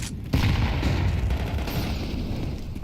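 A grenade goes off in Counter-Strike 2 with a sharp, loud boom, followed by a long rumbling, crackling tail that fades slowly over a few seconds.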